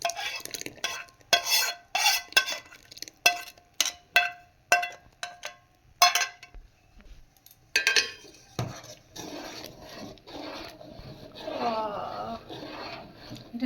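A spoon stirs a pitha milk mixture in a metal pot, rhythmic scraping clanks against the pot's sides, followed by a softer stretch with gentle bubbling.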